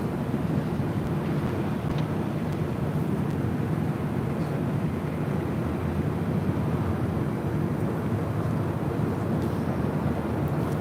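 A Qatar Airways airliner on runway 24 Left at LAX produces a steady, broadband roar of jet engines with no talk, heard at a distance as a continuous even rumble.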